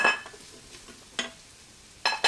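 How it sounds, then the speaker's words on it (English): Country-style pork ribs and large Granny Smith apple chunks sizzle softly in a pressure cooker, with three sharp scraping bursts from a utensil stirring the pot, spaced about a second apart. "You can kind of hear it sizzling now."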